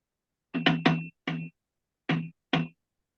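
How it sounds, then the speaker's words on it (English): Someone raps on a front door with knuckles: a quick burst of three knocks, then a single knock, followed after a pause by two more spaced knocks, close and crisp against silence. "there's another knock at the door"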